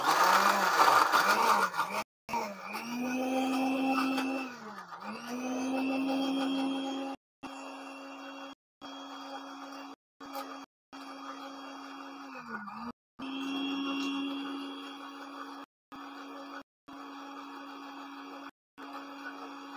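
An electric blender whirs as it blends an herbal mixture, a steady motor hum with pitch dips as it labors, run in repeated bursts separated by sudden stops.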